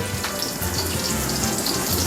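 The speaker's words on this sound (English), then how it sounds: "First step of making tostones, you cut the plantain and you put them in the oil" Plantain slices for tostones frying in hot oil, a steady close sizzle with a bubbling hiss running unbroken throughout.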